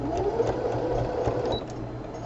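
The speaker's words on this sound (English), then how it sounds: "I put my sewing machine right here" A sewing machine runs steadily at close range, its motor whirring with a rapid, even rhythm of needle strokes throughout, with no talking.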